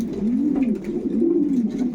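Pigeons in a loft give steady, rolling coos that rise and fall, layered over one another at close range with faint background noise.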